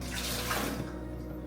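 Water poured from a tabo dipper, a brief splashing gush that fades quickly, close and fairly quiet, with no talking.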